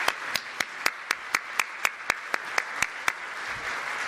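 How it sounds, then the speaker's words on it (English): A conference audience applauding for EU Commissioner Barnier at a financial markets event, heard as slow, evenly spaced loud rhythmic claps in unison over a background wash of scattered clapping. "Please applaud again,"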